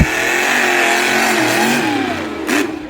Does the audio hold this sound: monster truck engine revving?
yes